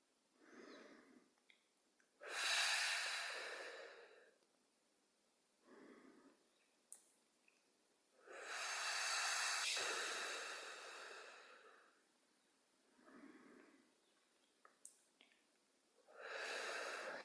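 Slow, deep breathing during a yoga shavasana session: long airy inhales alternate with softer exhales in a steady rhythm, close and fairly quiet, with no speech.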